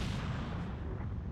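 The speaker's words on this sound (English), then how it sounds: "What was that explosion just now?" Explosion in the Dragon Ball Z Kakarot video game, a dense continuous rumbling blast with heavy low-end roar, loud throughout and with no voices.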